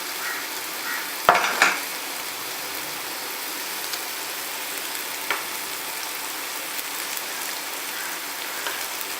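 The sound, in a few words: coconut paste frying and stirred in pan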